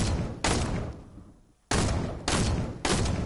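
In a roleplay video game, a gun fires in four loud, abrupt bursts of rapid shots. A brief quiet gap breaks the sequence after the first burst, and no voices are heard.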